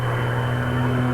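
Extra 300 aerobatic plane at the 1992 Humberside air show, a steady droning propeller engine tone held for a brief moment, mixed with a low public-address hum.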